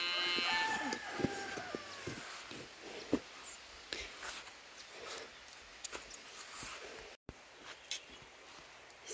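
A cow moos once near the start, a low drawn-out call on a farm, followed by quieter outdoor rustling and scattered knocks, with faint talk nearby.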